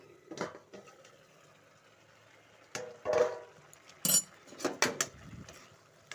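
A pot lid comes off a pan of cooking greens, giving a few sharp metallic clinks and scrapes in short bursts between quiet stretches, close by with no talking.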